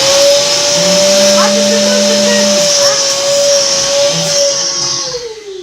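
A household vacuum cleaner runs loud and close with a steady whine and roar throughout, easing off slightly at the very end as a child is heard in the background.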